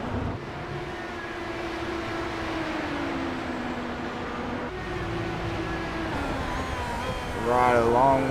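Race cars circling Watkins Glen in iRacing, a steady droning engine roar held across the whole stretch with a rising whine near the end, under continuous commentary.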